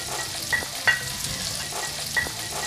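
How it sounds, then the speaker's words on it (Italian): Shrimp and finely diced speck fry in a pan for a rigatoni dish, giving a steady close sizzle with a few sharp clinks and scrapes of stirring. "Quindi aggiungo i gamberetti"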